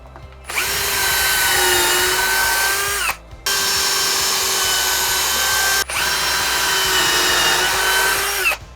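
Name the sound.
power drill making pilot holes in oak bench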